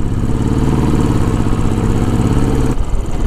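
A Royal Enfield motorcycle engine thumps steadily and close on a mountain road, holding an even mid-pitched running note throughout with a brief shift near the end.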